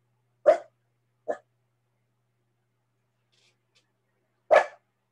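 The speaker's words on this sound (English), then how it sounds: "My dog hears something outside." A single dog barks indoors, three short sharp barks spaced unevenly with silence between them, fairly close and clear with no other sounds.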